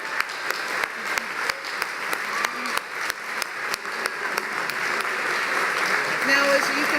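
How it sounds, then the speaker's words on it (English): Applause at a black-tie chamber of commerce awards dinner, with individual claps at first that swell into full, sustained clapping from the room as a voice speaks over it. "I think a round of applause is in order"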